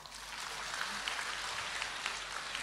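Faint, steady applause from a small gathering, soft overlapping claps heard at a distance with no talking.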